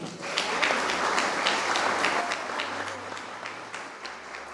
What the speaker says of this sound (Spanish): Le damos la bienvenida con un sentido aplauso a nuestra escritora